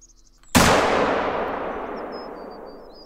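A single loud rifle shot fired at a bull moose in the hunting game theHunter: Call of the Wild, a sharp crack followed by a long rolling echo that fades over a few seconds.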